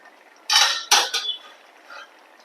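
A metal lid is lifted off a pot of quick sambar, giving two loud close clanks and a short rattle, then a faint scrape before quiet.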